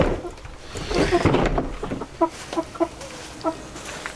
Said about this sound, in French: Donc là les poulets.